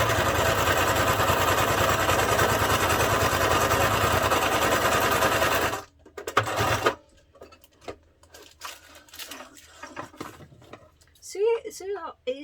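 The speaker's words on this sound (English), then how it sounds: "So on this side now, this thing here, you're going to sew that down." A sewing machine stitches down a concertina-style bag tag, running in a loud, steady drone for about six seconds before stopping abruptly, followed by soft handling clicks and rustles.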